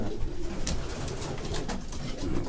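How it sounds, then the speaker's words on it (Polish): Racing pigeons cooing in a loft, soft repeated coos close by with light rustling and background noise. "to jest gołąb wychowany tutaj"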